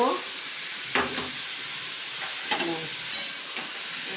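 Papaya pieces frying with salt in a pan while being stirred, a steady close hiss of sizzling broken by a few short scraping strokes of the spoon.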